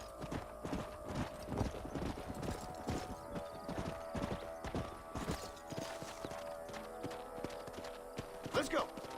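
Clip-clop of horse hooves in the Western video game Red Dead Redemption, a steady stream of hoofbeats with an occasional whinny, heard under game dialogue.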